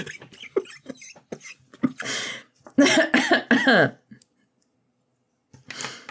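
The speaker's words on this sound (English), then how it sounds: "So I had a bit of a coughing fit, sorry." Several harsh, bursting coughs in quick succession, loud and close, broken by short gaps and a moment of silence before a final cough.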